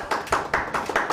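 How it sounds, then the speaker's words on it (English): A few quick hand claps in a studio interview, about five sharp close claps in an even rhythm over just over a second. "Applause all around"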